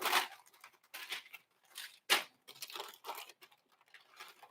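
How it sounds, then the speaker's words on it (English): Tissue paper crinkles and tears in a series of sharp, close rustling bursts with short pauses between them, unwrapped by hand from an Off-White x Nike Dunk Low sneaker box, and no one speaks. "Here's more of the tissue paper. And there's more tissue paper."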